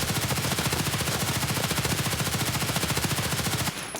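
An HK-416 rifle fired in Escape from Tarkov, a fast unbroken stream of loud, evenly spaced automatic shots lasting several seconds before cutting off abruptly, with no voices.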